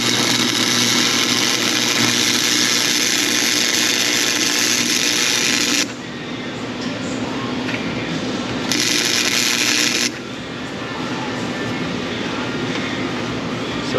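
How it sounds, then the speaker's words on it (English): Welding on a Honda strut mount on a car body: a loud, steady crackling hiss runs for about six seconds, quieter background follows, then a second shorter burst of welding, with no talking. "So now, let's get some more weld in there."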